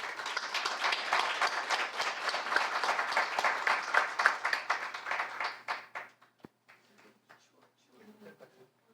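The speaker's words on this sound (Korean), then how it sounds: "여러분들 뜨거운 박수로 김 이사장님을 맞이해 주시기 바랍니다" An audience at a foundation's celebration event applauds a special lecture speaker with a dense burst of clapping that holds for several seconds, then thins out to a few scattered claps and fades.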